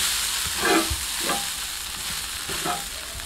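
A Brahmi leaf dosa sizzles in oil on a hot pan as it is flipped, with a steady frying hiss broken by a few scraping turns of the spatula.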